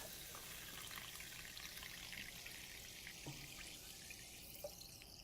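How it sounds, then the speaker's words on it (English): Fizzy club soda pours steadily over an ancient Roman silver coin, a continuous hiss of splashing and crackling bubbles, close and even throughout with no talking. "we're ready for the next step of the process, and that would be to add the club soda"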